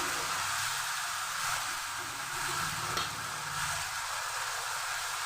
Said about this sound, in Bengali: এবার আমি মশলাটাকে খুব ভালো করে কষে নিচ্ছি